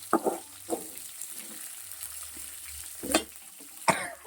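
Tomato sizzling in a pan for beetroot chutney, a steady fry under periodic louder clinks and scrapes of stirring, close and moderately loud.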